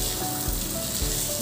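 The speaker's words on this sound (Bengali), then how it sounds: "ফুলকপি আর আলুকে মশলার সাথে ভালো করে কষে নেব।" Cauliflower and potatoes sauté with spices in a pan, giving a steady, close sizzle broken by two soft stirring thumps.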